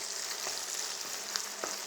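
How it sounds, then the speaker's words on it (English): Ground beef sizzles steadily in a hot pan, a bright continuous hiss with occasional small pops and crackles. "this has gone from like a hissing kind of sound to more of a sizzling"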